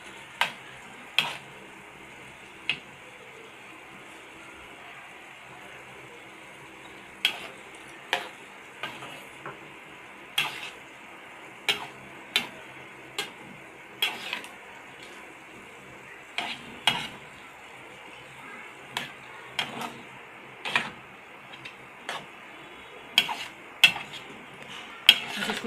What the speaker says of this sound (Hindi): ये भी हम इसमें शामिल करके और इसको मुस्तकिल चमचा चलाएंगे।